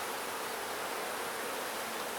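Honey bees in a queenless hive swarm over a brood frame during an inspection, producing a dense, steady buzzing hum close by with no talking.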